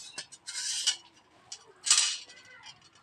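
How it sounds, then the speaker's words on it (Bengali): Peeled and washed taro root is scraped over a hand grater in a home kitchen, making several short raspy scraping strokes with brief pauses between them, close and fairly quiet. "এটাকে আমি কুড়ে নেব। এই যে একটা কুড়নি নিয়েছি।"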